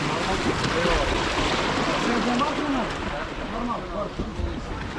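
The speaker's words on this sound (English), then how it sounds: "I got my own private boat here." A private boat rumbles along on the water in Portugal with splashing and wind noise, while people talk over it.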